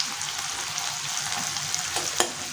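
Tomatoes fry in a pan with a continuous close sizzle and crackle, broken by a few light stirring scrapes and taps toward the end.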